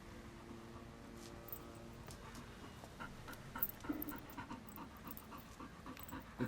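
A dog panting steadily up close, quick rhythmic breaths over a low background hum.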